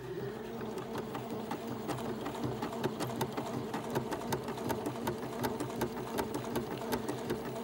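An HQ Stitch 210 sewing machine sews a satin-stitch buttonhole at moderate speed, giving a steady, close, rhythmic whirring hum with regular needle ticks.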